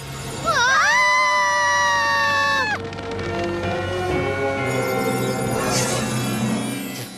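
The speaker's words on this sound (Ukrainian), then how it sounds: "Ще голосніших вересків?" Shrill animated-cartoon screaming from a My Little Pony Halloween episode rises sharply, holds loud for about two seconds, then breaks off into lower wavering cries and a further burst of high-pitched shrieking.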